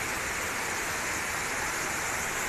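Steady broadband rush of water pouring down at a tall jungle waterfall near Durian Kuning village in Indonesia, a continuous hiss with no breaks and no voices.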